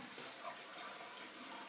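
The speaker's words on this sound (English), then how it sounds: "It's quite a quick flush compared to the old one." A newly installed toilet in a renovated bathroom flushes with a steady, close rush of water that lasts under two seconds, with no voices over it.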